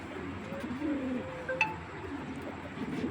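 Soft pigeon cooing, low and murmuring, drifting over a quiet background with a brief faint clink.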